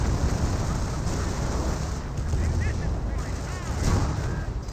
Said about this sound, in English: now here comes Calliope rocket barrage